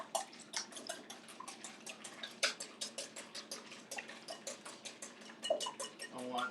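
Rapid, even metal whisk strokes tick against a bowl while eggs are beaten for banana bread, a steady clicking rhythm close up with a few louder knocks.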